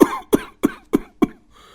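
Five harsh coughs in a steady rhythm, each a sharp burst about a third of a second apart, close and loud.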